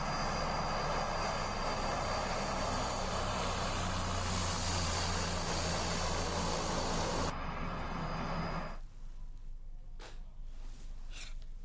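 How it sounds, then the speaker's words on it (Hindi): A fighter jet on a night practice sortie roars steadily overhead with loud broadband engine noise, then fades out abruptly toward the end, leaving faint residual sounds. "बीती रात भी लड़ाकू विमान ने आसमान में अभ्यास किया।"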